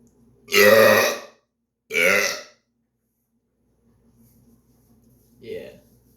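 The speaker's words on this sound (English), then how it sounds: "It's burping." Two loud, deliberate burps come close together, each a resonant belch of about half a second, then a pause and a shorter, softer third burp near the end.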